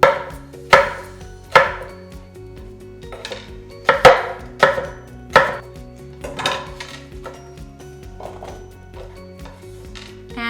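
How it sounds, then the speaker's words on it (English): Apples (golden delicious and pink lady) and a pear being sliced into thin wedges on a cutting board, giving a series of sharp, close knife thuds at uneven intervals that thin out toward the end, with no voices. "I'm gonna slice these into delicate little wedges."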